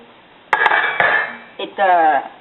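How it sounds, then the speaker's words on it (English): A metal lid goes back onto a pot of green mustard soup with pork balls, making a few sharp clanks and rattling scrapes close by, with short ringing tones between the hits. "Now I cover it back until the meat is cooked"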